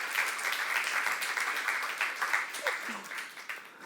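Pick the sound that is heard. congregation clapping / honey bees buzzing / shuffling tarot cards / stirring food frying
congregation clapping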